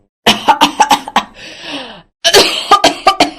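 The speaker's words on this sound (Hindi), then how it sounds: "खांसते हुए कहती है" A woman coughs repeatedly in quick, harsh bursts, pauses with a hoarse breath, then coughs again in another rapid series, close and loud.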